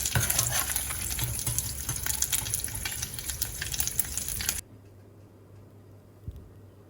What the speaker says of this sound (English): you'll definitely want to deep fry the anchovies because it'll taste nice and crispy